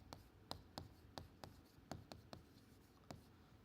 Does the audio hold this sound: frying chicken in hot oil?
no